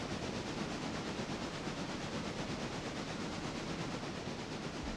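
A steam locomotive in the train simulation game Railroader, giving off a continuous dense hiss and rumble at a steady level, with no voices.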